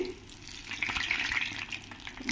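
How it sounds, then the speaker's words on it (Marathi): Brinjal slices fry over medium heat in a pan, a close, steady crackling sizzle with light scraping as they are flipped, moderately loud throughout. "मध्यम आचेवर मी हे वांगे तळले आहेत, आता मी त्यांना पलटवते"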